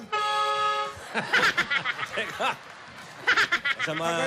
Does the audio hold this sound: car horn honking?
yes